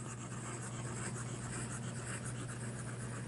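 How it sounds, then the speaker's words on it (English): A fountain pen nib scratching and gliding across paper while writing and doodling, a soft continuous scratchy texture, close and quiet, with no voices. "It really is nice just to write with. This is an extremely nice nib on this pen."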